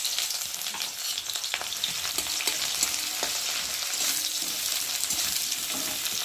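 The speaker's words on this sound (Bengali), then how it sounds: "পেঁয়াজটা ভালো করে ভেজে নেব লাল করে" Onions frying in a pan with a continuous close sizzle, with occasional soft stirring scrapes and light knocks against the pan, no voices.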